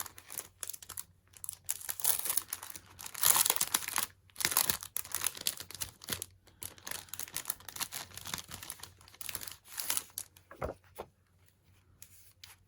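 Sheets of patterned craft paper are handled close by, giving bursts of crisp rustling, crinkling and flicking separated by short pauses, with no talking.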